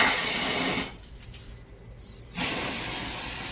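An air blower forces water out of the cooling system of a 1998 Lincoln Town Car, a loud steady rushing hiss that drops away briefly in the middle before surging back at full strength.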